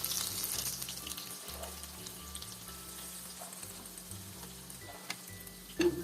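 Okra fries in oil with a steady, fairly soft sizzle and occasional stirring clinks, ending on one sharper knock near the close.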